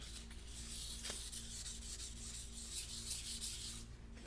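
Natural wood shaved by hand for an ASMR piece, producing a soft, close, continuous scraping rasp with faint repeated strokes, quiet and without speech.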